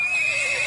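A horse pulling a tonga carriage neighs in one sustained, loud whinny with a clear wavering tone, close by and without talk.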